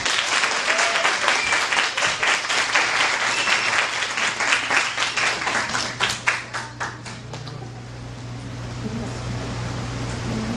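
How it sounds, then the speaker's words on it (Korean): A church congregation gives a pastor enthusiastic applause, dense rhythmic clapping that grows into rapid claps in unison before dying away, leaving a low steady hum of room noise. "나오실 때 여러분 열렬한 박수를 부탁드립니다"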